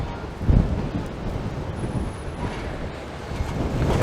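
Strong wind blasts across the microphone on a stormy Toronto walk from the waterfront toward Dundas Square, a loud, continuous rumbling roar with gusty swells and no talking.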